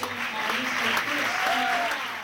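A studio audience applauds and cheers the cast of The IT Crowd sitcom, a dense, steady wash of clapping that fills the whole stretch, with crowd voices mixed in.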